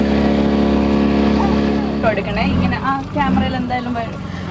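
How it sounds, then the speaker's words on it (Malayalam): A glass-bottom boat engine in Lakshadweep hums with a steady, low droning tone, then people start talking over the running motor. "glass bottom boat ride start ചെയ്തിട്ടുണ്ട്"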